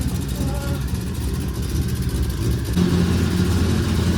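A 1000HP Lexus SC400 engine runs steadily at close range, a loud, continuous low rumble that swells slightly near the end as if given a light rev.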